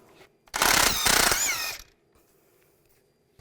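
A 21mm socket spins off a tie rod end nut on a 2002-2009 Chevy Trailblazer in one loud, close, rattling burst of roughly a second, followed by quiet.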